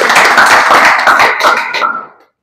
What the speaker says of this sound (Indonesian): Tepuk tangan dulu buat Robert.